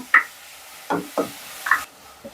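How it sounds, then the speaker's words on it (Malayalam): Ground mint, ginger and green chili paste is stirred into cumin in a pan, giving four or five short, scraping spoon strokes with a faint sizzle between them, close and clear, with no talk. "അരച്ച് വെച്ച പൊതിനയില ഇഞ്ചി പച്ചമുളക് അരച്ച് അതിലേക്ക് ഇട്ട് ഇങ്ങനെ ഇളക്കി കൊടുക്കണേ"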